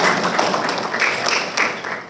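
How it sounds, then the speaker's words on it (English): An audience at a university legislative appreciation luncheon gives a round of applause for a visiting delegation, many hands clapping in a dense, loud, continuous patter that tapers slightly at the close. "Let's give them a round of applause to thank them for being here"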